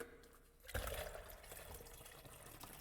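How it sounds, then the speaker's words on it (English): Dark brown fuel poured from a canister into a generator tank in Disco Elysium: a quiet lead-in, then a sudden gush of liquid that settles into a steady pouring stream to the end. "Dark brown, vicious fluid pours out and the room fills with a chemical smell."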